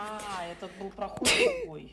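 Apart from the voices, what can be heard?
sneeze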